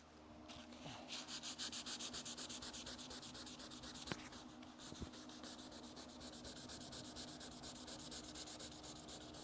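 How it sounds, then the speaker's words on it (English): Rhythmic, even strokes of 320 grit sandpaper rubbing over car paint on a Dodge Charger body, close and fairly quiet, repeating steadily throughout with a couple of faint knocks and no talking. "I found sandpaper. It's 320 grit."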